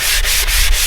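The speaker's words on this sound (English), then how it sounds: "So we want to take our sanding sponge and take all the rough spots" A sanding sponge rubs the rough spots of an old wooden garden hoe handle, a steady close-up abrasive scrape with three brief breaks as the strokes change direction.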